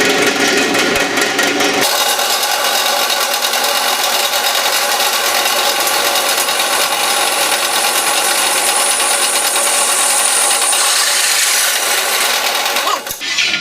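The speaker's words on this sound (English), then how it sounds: "I'm going to go ahead and drill these. I got me a 1/2-inch drill bit, got it up here on the drill press" A drill press fitted with a half-inch bit bores through steel for a gooseneck hitch tray, giving a loud, continuous grinding whir that holds steady throughout and shifts slightly near the start.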